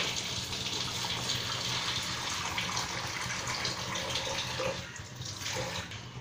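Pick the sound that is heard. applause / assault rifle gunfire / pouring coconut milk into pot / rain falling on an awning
pouring coconut milk into pot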